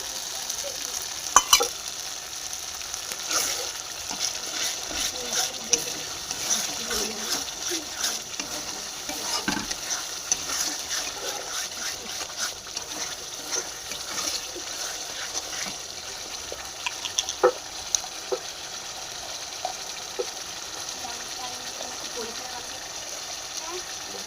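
Chicken sautéed with sour yogurt in a pan: a continuous close sizzle and frying hiss, with scraping stirs and occasional clinks of the spoon throughout.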